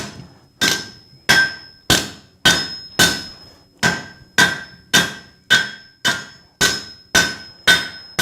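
A hammer forges 90-degree bends in steel for a hoe socket, striking in a steady rhythm of about a dozen loud, ringing metallic blows, each one decaying before the next.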